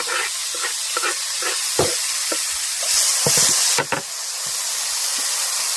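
Tomatoes frying with onions in a pan give a steady, close sizzle and hiss, broken by scattered knocks and scraping stirs and a brief louder burst of steam near the middle.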